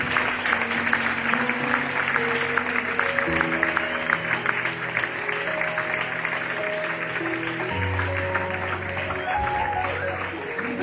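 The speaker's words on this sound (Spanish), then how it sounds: "¿Quieres dar un fuerte aplauso a Dios?" Church congregation applauds during a Spanish-language sermon, a sustained patter of clapping over a background of sustained organ or keyboard chords, continuing steadily for about ten seconds.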